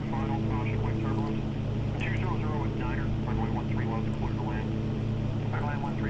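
A simulated Cessna engine in the X-Plane 5 flight game drones as a steady, continuous propeller hum beneath someone talking throughout.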